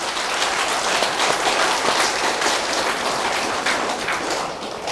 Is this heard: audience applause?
yes